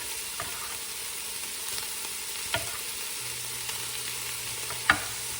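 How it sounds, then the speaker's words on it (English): Carrots and celery land in a pan of sizzling onion and garlic for lentil soup, a steady close frying hiss broken by a few soft stirring clacks, with no voices. "At this point, I like to add my carrots and my celery."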